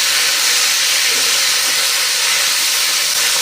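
Curry leaves fry in hot oil for a curry-leaf gravy in Tamil cooking, giving a loud, steady, close sizzle and hiss that holds evenly throughout with no voices.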